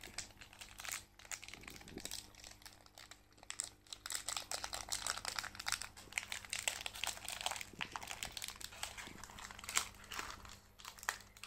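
A pizza is being unwrapped from its packaging, with continuous close crinkling and crackling of thin plastic film and occasional tearing, fairly faint and with no one speaking.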